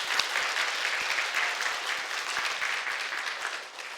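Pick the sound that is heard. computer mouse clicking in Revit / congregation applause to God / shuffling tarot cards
congregation applause to God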